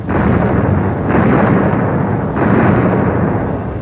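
Wartime footage of conventional high explosives detonating during the Korean War, with a loud, continuous rumbling roar that surges again partway through and stays dense and heavy the whole time with no voices.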